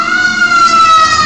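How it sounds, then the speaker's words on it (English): An ambulance and a fire truck pass outside a house with their sirens going, a loud, steady wail holding its pitch through the short stretch with no talk. "an ambulance and a fire truck just passed my house"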